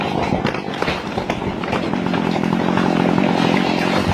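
A chainsaw roars steadily at close range while cutting a tree, its motor buzzing loud and continuous throughout with slight surges as it bites into the wood.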